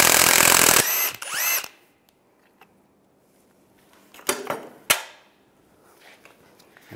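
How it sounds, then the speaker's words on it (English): Power tool with an 18 mm socket spins off the nut on the front upper shock mount of a 2007-2013 Chevrolet Silverado 1500, loud bursts of whirring at the start, then quiet with a few sharp clanks and short rattling bursts near the end. "Using an 18 millimeter socket,"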